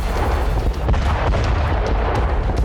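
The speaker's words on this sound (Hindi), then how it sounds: "उत्तर पूर्वी यूक्रेन में आसमान से अचानक ऐसे ही बॉम्बलेट्स की बरसात हुई और एक साथ कई धमाके हुए" Several cluster bomblet blasts go off at once in north-eastern Ukraine, making a dense and continuous booming rumble with sharp cracks scattered through it. The barrage stays loud and unbroken from start to finish.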